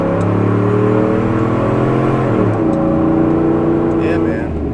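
The engine of a 2003 Dodge Ram 1500 4x4 pickup revving loud and close, holding a strong steady drone and then dropping in pitch partway through.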